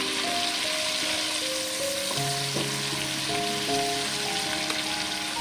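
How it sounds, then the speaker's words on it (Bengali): Fish oil sizzles loudly in a pan while it is stirred for a ridge gourd dish, a constant close crackle with faint background music underneath. "একটু আগে নেড়ে নিই মাছের তেলটাকে"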